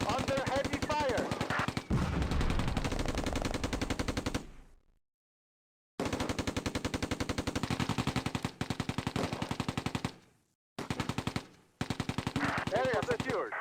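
Vickers machine gun firing in the Close Combat World War II strategy game, loud close bursts of rapid rounds with a long silent gap and a shorter break between them.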